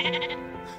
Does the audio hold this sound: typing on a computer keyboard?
no